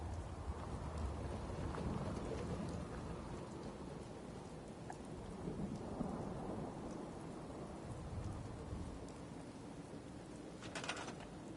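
Steady rain with rumbling thunder during a storm in the video game Fallout 4, a dense continuous wash of falling water with low rolls underneath and a brief crackle near the end, with no talking.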